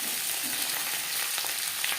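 Fish heads fry in oil in a pan, a dense, even crackling sizzle that holds steady close up for the whole two seconds.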